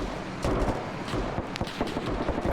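Machine gun fire in a video game, several short bursts and sharp reports over about two and a half seconds, fairly loud and without talk.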